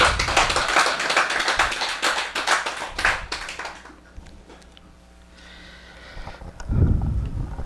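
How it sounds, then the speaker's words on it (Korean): Audience applause at a Korean Buddhist lecture on the Awakening of Faith, heard as a dense, fairly close burst of clapping for about four seconds that fades into a quieter room with a brief thump near the end. "우리 큰 박수 한번 부탁드릴게요."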